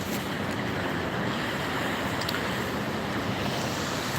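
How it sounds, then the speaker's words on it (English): Strong outdoor wind buffets the microphone in Helsinki, a steady, loud, broadband roar that fills the whole stretch without any voices. "The wind's kind of getting in the way too"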